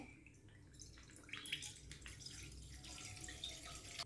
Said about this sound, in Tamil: இதில் வந்து ஒரு அரை லிட்டர் அளவுக்கு பால் ஆட் பண்ணிக்கிறேன்